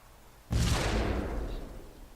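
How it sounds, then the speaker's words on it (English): A suicide bomber's IED detonates in ARMA 2, one sudden loud blast that bursts in and rolls on as a long, broad rumbling decay, with no voices over it. "So he's going to run straight to this and explode"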